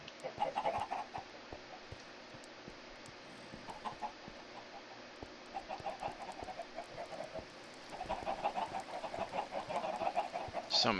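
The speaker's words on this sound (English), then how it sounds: "So many fucking chickens." A crowd of Minecraft chickens clucks and bawks in repeated bursts over a steady background, the calls overlapping near and far, with small clicks scattered through.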